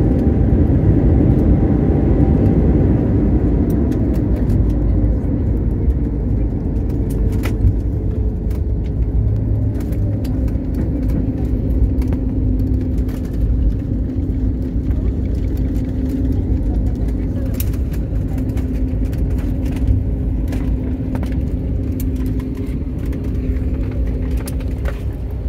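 A passenger airliner taxis after landing at Mumbai, its engines a loud low rumble that slowly winds down and settles into a steadier hum, with cabin noise and occasional voices underneath.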